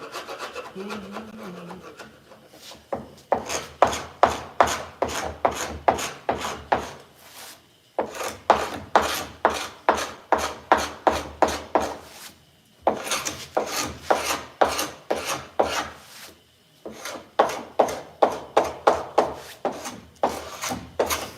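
A hand file scrapes across metal in rapid, rhythmic back-and-forth strokes, arriving in four bursts of quick rasping passes separated by short pauses. No one speaks.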